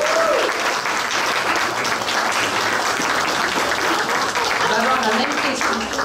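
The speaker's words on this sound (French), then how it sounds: "Applaudissez la fois." Audience applause at a cosplay contest for a contestant coming on stage, dense and continuous clapping throughout with some crowd noise and voices.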